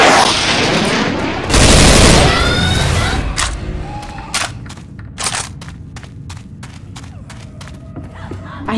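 Pistol fire in Left 4 Dead 2 on The Parish campaign: a loud roaring blast early on, then a rapid series of sharp, evenly spaced shots over steady game background noise.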